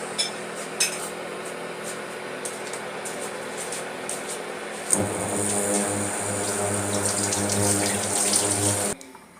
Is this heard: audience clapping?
no